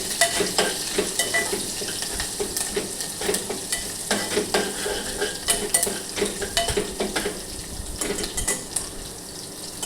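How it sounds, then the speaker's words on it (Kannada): Curry leaves and ginger-garlic paste fry in hot oil for a methi rice bath, a steady close sizzle broken by repeated scrapes and clinks of a spoon stirring against the pan. "ಶುಂಠಿ ಬೆಳ್ಳುಳ್ಳಿ ಪೇಸ್ಟು ಕರಿಬೇವು ಎಣ್ಣೆಯಲ್ಲಿ ಚೆನ್ನಾಗಿ ಫ್ರೈ ಆಗಬೇಕು"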